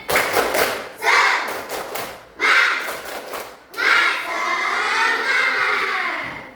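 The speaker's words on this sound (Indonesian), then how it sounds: "Oke, tepuk semangat." A primary school class performs a rhythmic chanted clap together during a science lesson: three bursts of patterned clapping and thumping mixed with children's chanting voices, the last burst longer and sustained.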